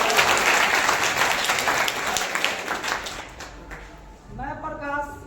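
Audience applause at a village election drama staged on a stage, a loud, dense burst of clapping that continues steadily and then fades toward the end as a voice begins speaking.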